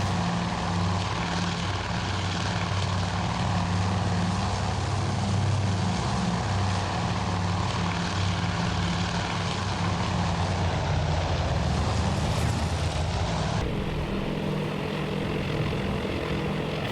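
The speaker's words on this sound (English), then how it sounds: "I think our torpedo bombers and our dive bombers are engaging different targets" Several WWII torpedo and dive bomber aircraft in a carrier simulator game drone steadily with loud, continuous propeller engines, and the tone shifts near the end as they pass.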